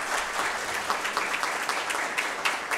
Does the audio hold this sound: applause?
yes